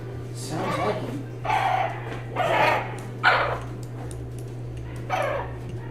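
A pet dog barks and yips in a house, giving about five short, close bursts at uneven gaps over a constant low hum, with people talking in the room.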